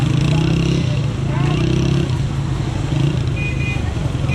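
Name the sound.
motorcycle riding in traffic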